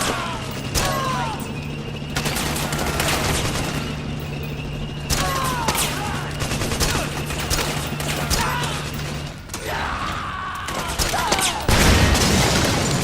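Heavy gunfire directed at a tank in the video game Metal Gear Solid 4, rapid fusillades and booming impacts over a low steady engine hum, loud and continuous with brief pauses and a final burst.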